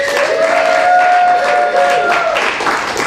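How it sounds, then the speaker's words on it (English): Steady applause and cheering from an audience at a live show, loud and continuous, with a sustained tone running through it and faint voices underneath. "Give yourself a round of applause."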